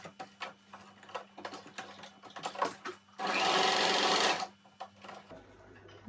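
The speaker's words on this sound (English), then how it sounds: "I'll sew it down" A sewing machine stitches fabric for a gathered ruffle turban hat. It runs in one loud, continuous burst of about a second, framed by quieter clicks and fabric handling before and after.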